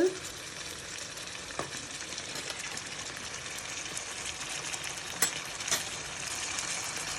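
Mutton kidney pieces sizzle and fry steadily in a hot pan with salt added, a continuous crackling hiss with occasional stirring clatters close by.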